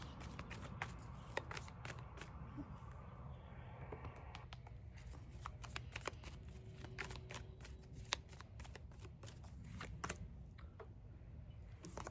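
Tarot cards being bridge-shuffled by hand produce quiet, close riffling and repeated soft flicks and taps spread over several seconds, alone without talk.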